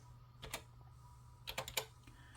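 Keys clicking on a computer keyboard while entering a $50 inflow in a budgeting app, two short bursts of quick taps separated by a pause, close and fairly quiet.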